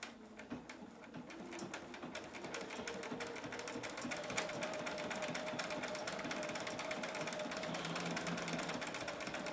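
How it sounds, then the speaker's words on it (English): A sewing machine runs steadily, stitching rows of decorative thread along the edge of the presser foot beside a previous line of stitching, a continuous close mechanical whir with a rapid needle clatter throughout. "I'm going to let the edge of my presser foot be my guide right along the bottom edge of the previous line of stitching."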